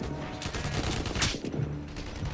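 Rapid bursts of gunfire in the Kinect shooting game Blackwater, a steady flurry of shots with one sharper crack midway, moderately quiet and heard alone.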